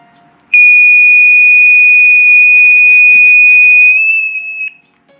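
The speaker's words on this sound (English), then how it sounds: "that is a loud fire alarm type sounding thing" An orange two-prong Say When liquid level indicator sounds a loud, steady, piercing electronic beep, like a fire alarm, holding one unbroken tone for about four seconds before cutting off, with no talk.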